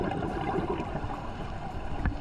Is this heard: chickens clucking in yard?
no